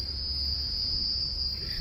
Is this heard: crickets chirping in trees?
yes